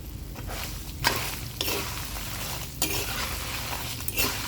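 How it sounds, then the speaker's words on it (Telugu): Fenugreek seeds, garlic and dried chilies fry in oil for a mango pickle tempering, making a soft continuous sizzle broken by several scraping stirs of a spoon against the pan. "వేసుకుని మంచి రంగు వచ్చే వరకు వీటిని వేయించాలండి ఎండుమిరపకాయలు రంగు రంగు మారి ఆవాలు చిటపటలాడుతున్నప్పుడు"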